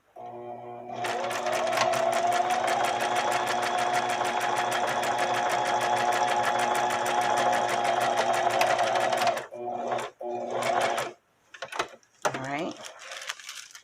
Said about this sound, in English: I'm just going to use a quick zigzag stitch because that's what's already on my sewing machine